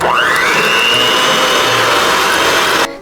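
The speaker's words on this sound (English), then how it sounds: "we're gonna beat that with an electric mixer just until stiff peaks form" An electric hand mixer beats egg whites toward stiff peaks for a grapefruit cake batter. It whirs loudly and steadily at close range, its pitch rising as it spins up, then it cuts off near the end with no voices over it.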